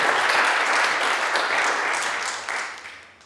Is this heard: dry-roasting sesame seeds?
no